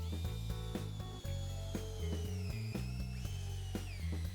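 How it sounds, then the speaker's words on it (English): A drill fitted with a 3/8 inch plug cutter bores into spare cherry flooring, giving a continuous close whirring grind with rhythmic pulsing and rising pitch as the cutter bites into the wood. "I've got a 3/8 inch plug cutter, fits into your drill like this."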